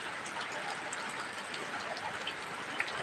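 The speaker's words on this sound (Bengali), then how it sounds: "সকাল থেকে সে মুসলধারে বৃষ্টি হচ্ছে এখানে দেখুন সাথে হালকা বাতাস" Heavy downpour with a light breeze, a steady dense hiss of rain falling all around without letup, with faint scattered drops pattering on nearby surfaces.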